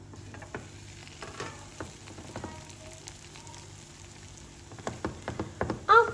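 A traditional Spanish omelette of three ingredients fries quietly in an oiled pan, giving a soft, steady crackle broken by scattered taps and scrapes, with busier, louder clatter near the end.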